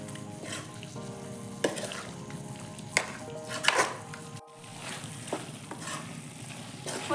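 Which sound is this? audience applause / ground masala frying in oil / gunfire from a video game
ground masala frying in oil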